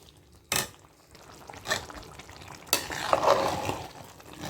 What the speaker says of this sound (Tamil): இப்போ பரட்டி விட்டுக்கலாம்.